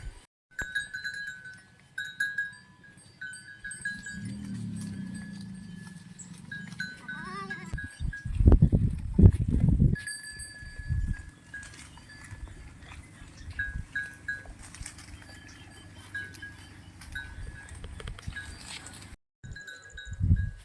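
A goat is led in and tied up in a Tamil village during the rainy season, with bleats and rustling, bursts of louder handling noise midway, and a person speaking in the background.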